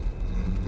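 Dog barks in the video game S.T.A.L.K.E.R. Clear Sky, heard as a brief growl-like bark rising at the end over a dense, loud rumbling game background.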